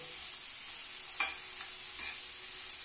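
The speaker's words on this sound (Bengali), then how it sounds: "বুঝতেই পারছো ভেতর থেকে ছ্যাট ছ্যাট একটা আওয়াজ হচ্ছে" Okra coated in sesame and gram flour sizzles in oil, a quiet, even hiss close by with a few soft clicks of stirring.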